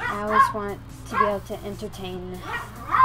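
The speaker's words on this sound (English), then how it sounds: "If you guys hear barking in the background, that is my two dogs" Two pet dogs yip and bark in the background of a home livestream, their short, whiny calls coming in bursts under a person's talking.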